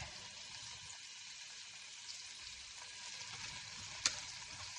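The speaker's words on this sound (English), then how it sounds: "We're going to saute it." Handful of arugula wilting in a hot pan, giving a steady, close hiss of frying and sizzling with a single sharp clink or crackle near the end, no voices.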